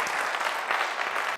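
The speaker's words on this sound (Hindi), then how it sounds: "ऐसी तालियां बजाएं आसमानों तक आपकी खुदा गूंज जाए" A church congregation claps hands together, a dense burst of applause that stays loud and continuous for a moment before cutting off abruptly.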